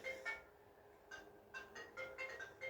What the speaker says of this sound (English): There's my phone going off again.